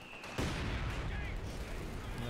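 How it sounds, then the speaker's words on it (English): Rifle grenade fired in a multiplayer shooter match, a single sharp blast followed by a sustained rumbling explosion that lingers to the end. "he thrown a rifle grenade there"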